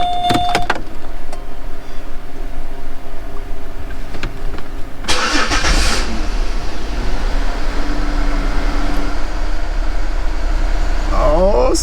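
A 2006 Chevy Malibu Maxx cranks and fires up, a sharp burst of starter and catch midway, then the engine settles into a steady idle with a voice talking over it.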